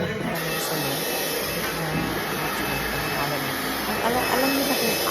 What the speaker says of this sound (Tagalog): Yung i-blower yung ulo ko.